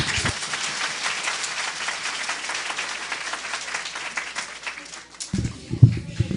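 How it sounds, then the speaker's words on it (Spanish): Church congregation applauding after a blessing during a sermon, a dense steady clapping that fills most of the clip before fading out, with a brief voice at the end. "Y démosle un fuerte aplauso."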